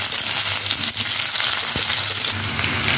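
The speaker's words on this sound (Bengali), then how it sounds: "পেঁয়াজ রসুন আর লঙ্কা একটু ভালো করে ভেজে নেব।" Onion, garlic and chilli fry in a pan with a loud, dense, steady sizzle that crackles close up throughout, with a few soft stirring scrapes and no voices.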